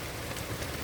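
Steady rain falls at night in a summer storm, a dense, even hiss of drops on surfaces with no distinct patter or thunder, constant and moderately loud throughout.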